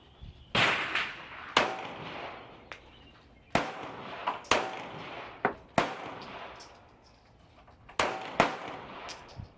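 Glock 17 Gen 5 pistol fired at a range with Sig 124 gr JHP ammunition, about a dozen sharp close shots in quick pairs and short strings with brief pauses between.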